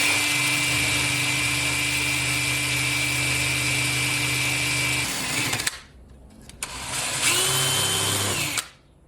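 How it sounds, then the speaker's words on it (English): A power drill porting a clamped K24 intake manifold whines steadily at high speed, stops abruptly, then spins up again for a few seconds before winding down. "the drill is going to work a little better"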